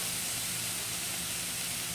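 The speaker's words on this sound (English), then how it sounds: "So they can go ahead and get nice and grilled." Onions and sausage sizzling on a grill, a steady broadband hiss running evenly without pauses at moderate volume, no voices.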